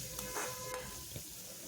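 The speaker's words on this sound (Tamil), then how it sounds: "அதையும் நல்லா ஹை ஃப்ளேமில் வச்சுட்டு நல்லா வதக்கிடுங்க" Vegetables for chicken fried rice sauté on a high flame with a low, steady sizzle and a few faint scraping stirs, quiet and close, with no talk.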